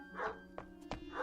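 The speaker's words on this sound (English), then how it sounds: "Yep, that's the dog that always comes around." A collie dog in a radio drama gives two or three short, sharp barks spaced across roughly a second, fairly close and clear over a faint background hum.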